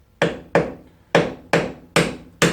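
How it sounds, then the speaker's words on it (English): A wedge is hammered in on a Honda ATC200 three-wheeler during a no-crank repair, six sharp metallic whacks at a steady, slightly uneven pace, each loud and close with a quick decay and no talk between them. "It's like a wedge, so as you hammer it in, it should open this up."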